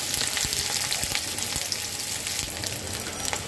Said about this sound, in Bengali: এখন আমি দিয়ে দেব তেলের মধ্যে পেঁয়াজ আর কাঁচা লঙ্কা।